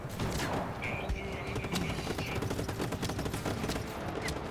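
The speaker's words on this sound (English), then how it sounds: "Could you please stop shooting at me?" Gunfire in the video game Just Cause 3, a dense, continuous crackle of rapid shots at moderate loudness with a faint chirp and brief voice in the mix.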